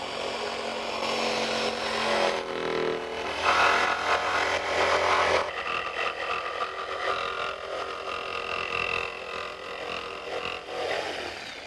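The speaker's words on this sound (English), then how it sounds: "the jigsaw blade's upward cutting stroke can splinter the surface" A jigsaw cuts through a wooden board, its motor buzzing steadily and loudly for the whole stretch, with the strokes growing rougher and more intense partway through.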